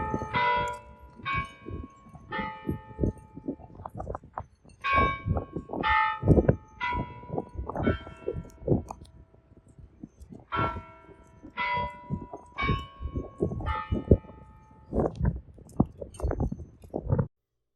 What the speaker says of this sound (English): Listen to these church bells.